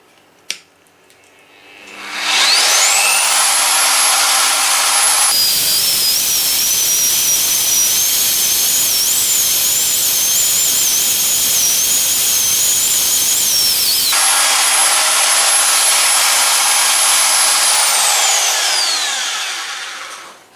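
A Vevor ZT-45H magnetic drill bores and taps steel plate, its motor spinning up into a loud, sustained high-pitched whine with harsh cutting noise that holds steady for about fifteen seconds before winding down.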